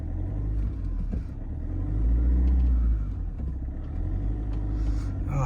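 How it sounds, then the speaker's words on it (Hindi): A car rolls slowly down a rough forest track in winter, a low continuous rumble of tires and engine swelling and easing, close and steady with no talk. "गाड़ी अपने आप ही फिसल रही है, हम नहीं दबा रहे, धीरे धीरे।"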